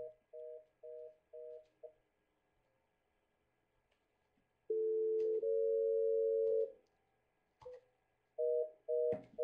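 A telephone on a Cisco CUCME voice lab goes off hook, with short repeated tone pulses, a quiet pause, then a long steady dial tone and a few more brief tone beeps, clear and alone.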